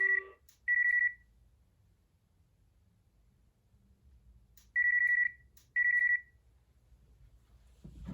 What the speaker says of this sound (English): Okay, now we're going to call this phone.